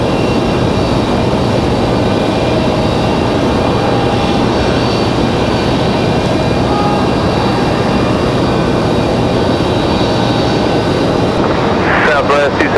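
A United Boeing 737 jet, arriving from Washington Dulles, roars steadily at Raleigh-Durham airport, a loud, continuous broadband engine rush lasting throughout, with voices faintly mixed in.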